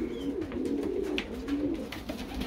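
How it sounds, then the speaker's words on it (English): Small fantail pigeons coo continuously in a loft, a soft rolling murmur of several birds overlapping, with faint higher chirps and rustles mixed in. "These are little fantails."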